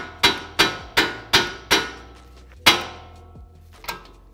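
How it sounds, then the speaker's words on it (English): Sharp metallic hammer strikes on a steering knuckle: five evenly spaced taps, a pause, then a harder blow and one lighter tap, loud and close with brief ringing. "I'm going to tap the knuckle here with the hammer"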